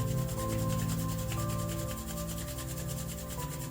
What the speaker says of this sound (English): Now rub your palms in front of you.